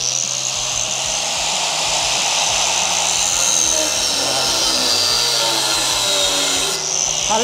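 An angle grinder fitted with a 3M Cubitron 3 cut-off disc cuts metal in one loud, sustained, close-up whine with a steady rumble beneath it for the whole stretch.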